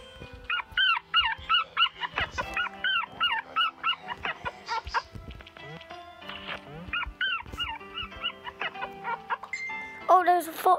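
A dog yips, barks and whimpers in repeated bursts of excited high-pitched cries, fairly close, with a voice talking in between.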